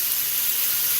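Salmon brushed with soy sauce sizzles on a grill, a steady bright hiss with no talk over it, close and continuous for about a second.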